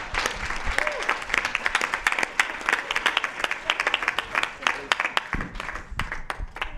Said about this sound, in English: Oh, thank you, applause.